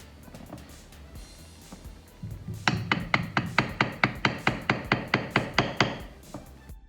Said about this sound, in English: Next step is I'm using a beveling tool, and what that does is it kind of recesses the leather.